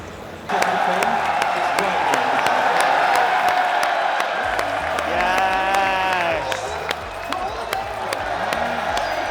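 A large crowd at an esports final roars, cheers and claps continuously, with loud whoops and rhythmic chanting rising over the din and voices talking amid the noise.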